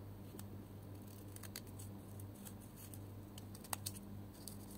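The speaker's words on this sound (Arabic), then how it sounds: "كده انا قطعت الورق بتاعي" Scissors snipping through paper for a craft collage, a series of light, crisp close-up cuts over a steady low background hum, with no talking.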